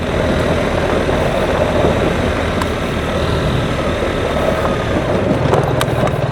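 A BMW R1300 GS Adventure motorcycle rides steadily in second gear, its engine a continuous low drone with wind rush, loud and close throughout.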